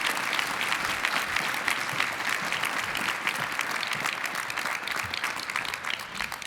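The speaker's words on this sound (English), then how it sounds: "Two finalists who certainly deserve another round of applause" Audience applause at the International Children's Peace Prize ceremony: steady, dense clapping from a large crowd that holds at an even level throughout, with no voices over it.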